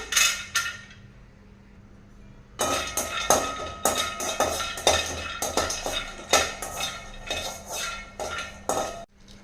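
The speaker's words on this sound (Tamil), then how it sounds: "ஒரு இருபது பாதாம் எடுத்து வச்சுருக்கேன் இதை வறுத்துக்கலாங்க" Twenty almonds dry-roasting in a pan for coconut and chana dal laddu, with a metal spoon clinking and scraping against the pan in busy, uneven bursts after a quieter start.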